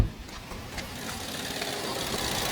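A car engine with a vibration problem starts up and settles into a steady idle, a low continuous mechanical hum with a faint rattling texture, heard close and alone.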